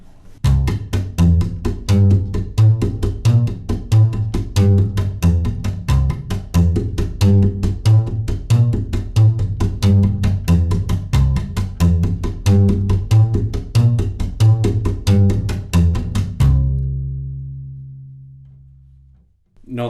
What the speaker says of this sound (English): the walk-in bass line in C, but using part of the rumba rhythm, and try and put it all together